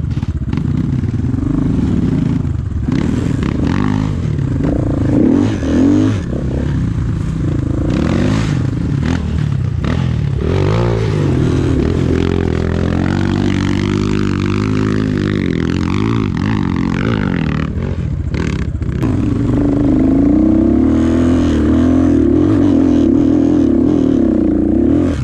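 A new enduro motorcycle climbs a hill off-road, its engine loud and close throughout, revving and straining with rising and falling pitch, with clattering and scraping from the terrain and a hard surge of throttle near the end.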